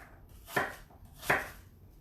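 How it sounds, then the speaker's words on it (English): Two crisp knife chops through fruit sticks on a cutting board, cubing pieces for a seasonal fruit salad, each a short close thud spaced under a second apart in a quiet kitchen. "we're gonna cut little sticks and then cut our sticks into cubes"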